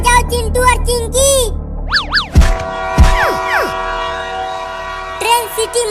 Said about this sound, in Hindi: ट्रेन सीटी मार रही है